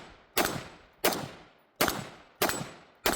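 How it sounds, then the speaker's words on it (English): Sharp rifle shots from a Springfield Armory Hellion, five loud reports fired at a steady, fairly quick pace, each with a short decaying tail, no talking. "I'm going to go ahead and put some shooting videos up"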